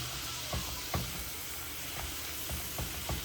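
Chicken sizzling in a hot pan as it is stirred: constant loud hiss broken by several distinct scraping strokes of the spoon, close up, no voices.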